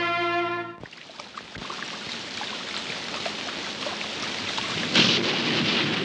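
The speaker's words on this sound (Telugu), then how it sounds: "ఇదేం వానబ్బా, ఆగట్లేదు." Heavy, steady downpour with rumbling thunder, a dense continuous roar of rain that swells louder near the end, with a brief low crack early on; no voices.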